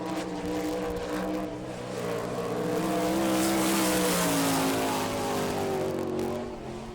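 A sprint race car roars around the Rossburg, Ohio dirt track on a qualifying lap, its engine note loud and sustained, rising and falling in pitch as it climbs through the revs and sweeps past.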